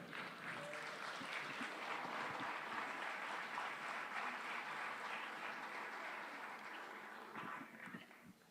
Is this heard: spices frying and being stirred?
no